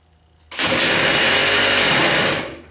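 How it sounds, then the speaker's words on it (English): A drill spins up to crank a 32-year-old moped engine from cold with the choke off, a loud, steady high-pitched whir that starts abruptly and holds for about two seconds before tapering off, with no talking. "I'm going to use the drill."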